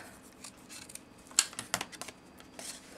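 Scissors cutting paper while making a card, quiet scattered snips and rustles with a few sharper clicks, close by and with no talking.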